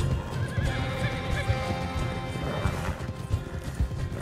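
Startled horses in Red Dead Redemption 2 neigh repeatedly above busy clip-clopping hooves and scattered crashes, loud and close throughout the few seconds, with no voices.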